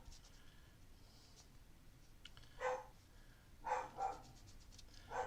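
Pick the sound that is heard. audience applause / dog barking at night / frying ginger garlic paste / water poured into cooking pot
dog barking at night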